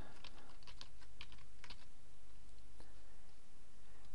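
Rapid keystrokes on a computer keyboard as a username is entered, a burst of clicky taps over the first couple of seconds with a few scattered presses afterward, close and clear over a low background hum.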